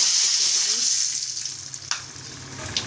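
Shing and tangra fish frying in hot oil in a wok, a steady close hiss of sizzling with a few sharp pops and spatters as pieces go in.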